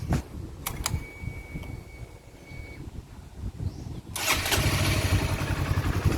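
A few clicks and quiet mechanical sounds, then a 2016 Honda CBR150i motorcycle engine catches and settles into a steady, close idling rumble.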